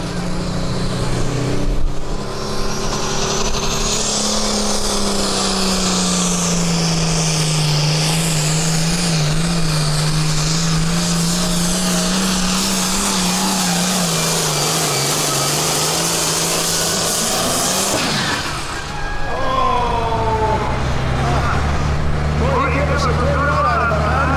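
Turbocharged pulling tractor at a county fair tractor pull, a loud sustained engine roar and turbo whine running down the track, swelling and shifting pitch, with an announcer talking over it throughout.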